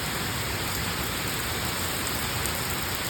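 Heavy rainstorm pouring down steadily, a dense, loud, continuous hiss of rain close by with no break and no voices.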